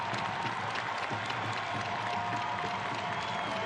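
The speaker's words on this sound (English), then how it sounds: "Jody Taylor will deserve the round of applause she gets here" Fans at an NWSL women's soccer match applaud a player, a distant, even wash of crowd clapping and murmur that holds steady with no distinct voices standing out.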